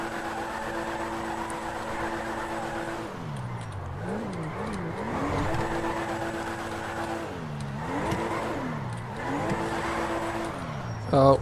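A modded older German car in the GTA 5 video game revs steadily, its engine pitch dipping and rising repeatedly as it drifts, with faint tire squeal and a loud steady engine drone throughout.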